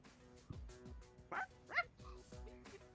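A dog in the Persona video game gives a few short barks and yips at moderate loudness over steady background game sound.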